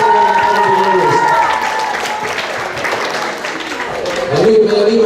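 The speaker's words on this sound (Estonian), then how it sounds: "Üks suur aplaus!" Audience at a school playback singing contest in a gymnasium giving a big round of applause, steady crowd clapping with some cheering throughout, a voice briefly rising over it near the end.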